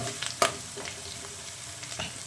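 Ginger-garlic paste frying in hot oil for a cluster bean stir-fry, a steady close sizzle broken by a few sharp stirring scrapes, one louder clack near the start, with no talking.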